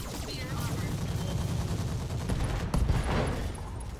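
Weapons fire in the mech combat video game Roguetech, a dense volley of overlapping booms and impacts over about four seconds, loud and continuous with a heavier burst near the end.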